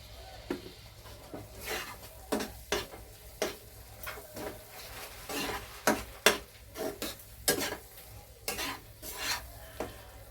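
A spoon scrapes and clatters against a kadai in an irregular rhythm while peas sizzle faintly underneath in frying spice paste.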